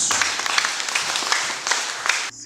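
Sustained, close applause from a church congregation during a sermon, a thick wash of clapping with a few louder claps, cutting off abruptly near the end.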